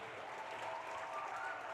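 A brief, fairly soft burst of crowd applause for a girls' tennis honoree at a sports gathering, even clapping heard from a distance without talk.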